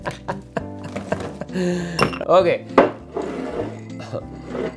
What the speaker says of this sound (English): And what he suggests is 1 ice cube in a rock glass.